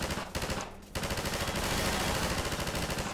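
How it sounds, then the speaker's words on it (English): Sustained automatic pulse rifle fire from Half-Life 2 rattles in a dense, rapid stream, loud and close, with a brief break after the first burst before firing resumes unbroken. "This is like the basic pulse rifle I'm actually holding in my hand, but it has infinite ammo."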